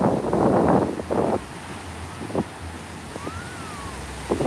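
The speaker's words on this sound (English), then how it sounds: "The wind is coming from my left-hand side" Wind blows outdoors beside open water in Brooklyn, buffeting the microphone in a loud rushing gust at the start before settling into a steadier low roar with a few softer bursts.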